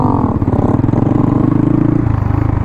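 A Honda Grom motorcycle revs hard while pulling a wheelie beside a highway, a loud, close, continuous engine roar with rising and falling pitch and no talk over it.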